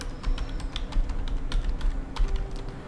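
A keyword is typed on a computer keyboard, a steady run of quick clicking keystrokes, close and distinct, with a faint background hum and no talking.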